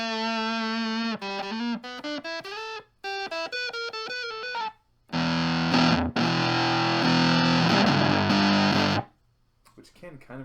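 A buzzy, distorted square-wave synth plays a series of stepped notes, then sustains a harsh, dense chord before cutting out.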